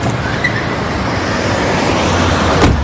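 Loud road noise from a car approaching, a steady broadband rush that swells slightly toward the end, with no voices.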